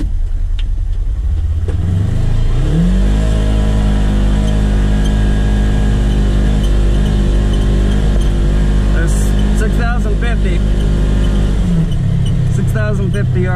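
Polaris Ranger XP1000 engine revving up as it accelerates, then holding a loud, steady high-rpm drone before dropping back, close, with someone talking over it.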